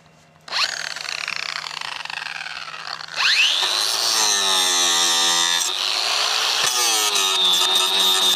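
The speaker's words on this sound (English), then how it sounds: "we gotta cut some metal here" An angle grinder spins up with a rising whine and then bites into metal, giving a loud, sustained, high-pitched grinding tone with a few shifts in pitch as it cuts, heard close and alone.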